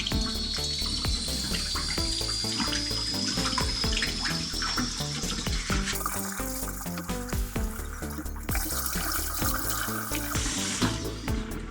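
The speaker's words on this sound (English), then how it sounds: "Next step, clean the glasses. Just some normal dishwashing soap." Glass ceiling light shades are washed with dish soap under a running tap, a steady close stream of splashing water broken by clinks and knocks of glass.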